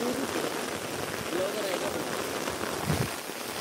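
Steady rain hisses across the whole stretch on a trek to Raigad Fort, an even wash of noise with voices talking faintly underneath.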